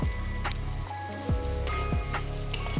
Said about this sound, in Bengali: এরপরে আলুগুলো দিয়ে দেবো আলুগুলো দিয়ে কষাতে হবে